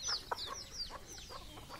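Desi hens cluck softly at close range in a small poultry batch, a few short repeated calls with high chirps over quiet background.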